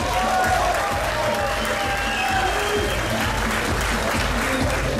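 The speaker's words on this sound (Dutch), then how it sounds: "Mag ik een applaus voor deze twee kanjers." An audience at a competition bursts into steady, dense applause that carries on without a break, with some cheering mixed into the crowd noise.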